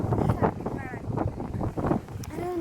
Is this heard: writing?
no